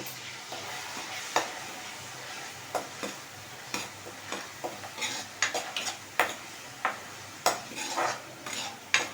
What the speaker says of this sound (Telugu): ఆనియన్ పచ్చిమిర్చి ప్యూరీ వేసి బాగా ఫ్రై చేసుకోవాలి.